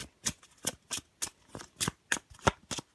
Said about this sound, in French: mélanger mon jeu